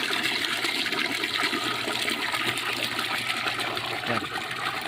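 Water pumped from a deep well pouring into a blue tank, a steady rushing gush with trickling and splashing that continues throughout at constant loudness, close by and with no talk.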